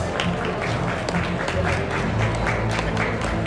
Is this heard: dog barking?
no